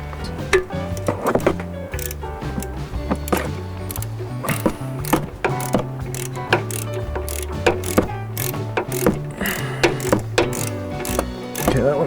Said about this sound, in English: I'm gonna get them tight and then I'll torque them down shortly.